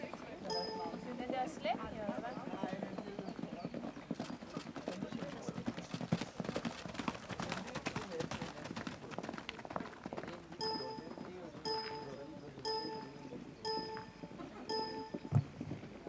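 Horses ridden at a gallop on open ground, the rhythmic clip-clop of hooves running through the clip amid rustling and movement noise, with riders talking intermittently.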